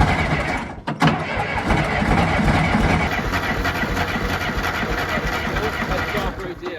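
Old John Deere tractor engine cranking, a rough continuous churning roar close by, with people talking over it.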